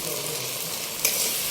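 Chicken fries in a pan with red chilli sauce while being stirred, giving a loud, continuous close sizzle with a brief scrape partway through and no voices.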